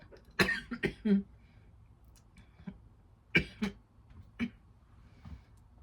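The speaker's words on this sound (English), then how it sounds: "This cough is just dragging on and on." Several harsh coughs come in short bursts, close and fairly loud, separated by quiet gaps in an otherwise still room.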